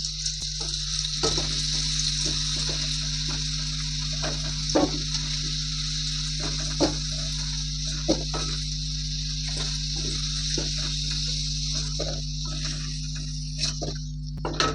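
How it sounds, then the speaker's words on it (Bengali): Potatoes frying in hot oil in a pan, a steady close sizzle and crackle with occasional utensil taps over a constant low hum. "আলুগুলো লাল লাল করে ভেজে নিয়েছি"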